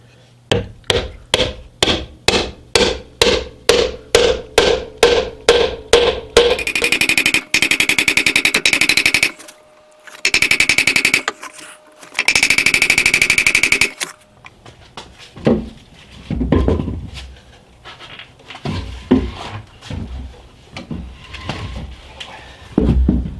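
A wooden peg is hammered through the tenon of a timber-framed workbench joint: a rapid run of about fifteen sharp, close blows, then bursts of harsh grinding noise and a few more scattered knocks.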